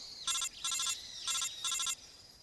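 Codec call alert in Metal Gear Solid 3, sounding as four short electronic ringing bursts in two pairs over a faint steady tone, clear and alone.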